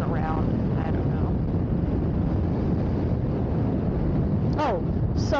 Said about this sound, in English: trying to push against this wind